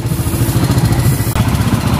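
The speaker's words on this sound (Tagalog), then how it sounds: "okay na yung andar ng ating Barako" Kawasaki Barako 175 motorcycle engine running steadily with the headlight switched on, a close, loud, even throbbing idle with a brief dip partway through, no voices.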